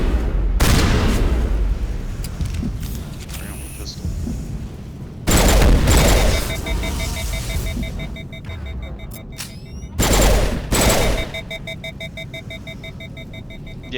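Pistol gunfire in the video game Mass Effect, a few loud sharp bursts of shots separated by quieter gaps filled with electronic tones and ambient hum.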